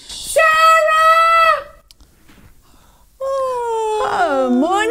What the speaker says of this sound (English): she's got to scream loud this time